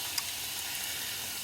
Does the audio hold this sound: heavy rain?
no